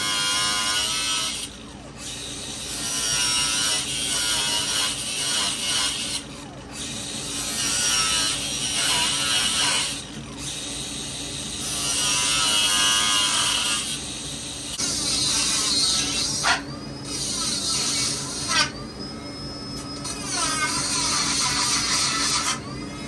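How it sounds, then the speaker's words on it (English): A Dremel rotary tool grinds and cleans up a metal brake booster delete part on a Honda S2000, a high whining buzz in repeated passes broken by short pauses, close and fairly loud with no talk. "use a Dremel to clean it up"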